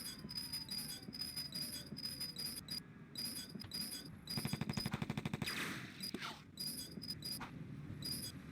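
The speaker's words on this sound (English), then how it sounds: "Shooting me from over there." Enemy gunfire rattles through an H.E.D.Z. level as a rapid, evenly spaced burst of shots over a steady hum of game music and ambience, preceded and followed by scattered single pops.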